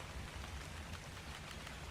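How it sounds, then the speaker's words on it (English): Rain in the ARK dinosaur survival game falls as a quiet, even patter with a faint wash of steady hiss and no breaks. "Have you ever considered rain?"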